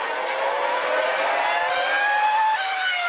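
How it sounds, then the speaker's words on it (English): Formula 1 cars racing away from the race start at Imola, a loud continuous high-pitched engine scream with several cars overlapping and pitches rising as they accelerate, no voices. "Kimi has a cracking start, and Alonso has to settle for 2nd. Jensen holds on to 3rd, and they're all through Tamburello safely."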